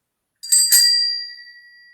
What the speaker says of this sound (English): The doorbell's ringing.